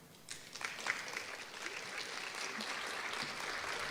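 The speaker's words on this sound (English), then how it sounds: "They were just so enthusiastic. They wanted to clap for you." An audience at a graduation ceremony breaks into clapping, a dense, sustained burst of applause that swells in the first second and then continues evenly, heard in a hall at moderate distance.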